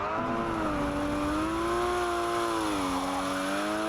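A car drifting with traction control and ABS off, the rear wheels sliding as the engine holds a loud, steady, wavering whine with a tyre-squeal edge, heard alone throughout.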